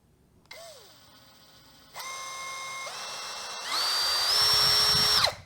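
A Hasston 16V brushless cordless drill whirs at low speed, then steps up in pitch and loudness twice as the variable-speed trigger is pressed deeper, ending in a high, steady whine before stopping.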